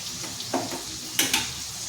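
Food pieces dropped into hot oil one after another, a steady frying sizzle broken by a few short bursts of louder crackle as each piece goes in.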